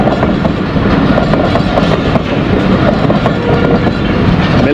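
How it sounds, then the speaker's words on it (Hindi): A Pakistan Railways Millat Express train passes very close in foggy weather, a loud, continuous rumble with steady clickety-clack of wheels on rails and no talk. "ये मिल्लत एक्सप्रेस है।"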